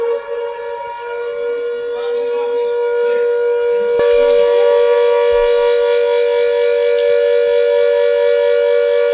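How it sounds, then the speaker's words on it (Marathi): Loud air-raid warning sirens wail steadily after cross-border gunfire, with a sustained, layered tone that swells louder partway through and holds on. "पाकिस्तानच्या गोळीबारानंतरच नागरिकांनी सतर्क व्हावं यासाठी हे सायरन वाजवण्यात आले"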